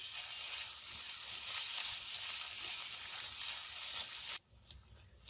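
Finely chopped capsicum and onions sizzle steadily in a hot pan for a tawa qeema, a bright continuous frying hiss with faint stirring scrapes before the sizzle suddenly drops away.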